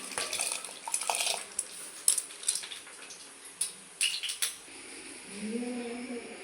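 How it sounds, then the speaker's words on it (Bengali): Washed lentils pour into a pot of hot water, with clattering, splashing and scraping from the pot for several seconds before a quieter stretch with faint background noise. "এখানে আমি হাঁড়িতে জল বসিয়েছি, জল গরম হয়ে গেছে। এখন আমি ডালগুলো ঢেলে দিচ্ছি।"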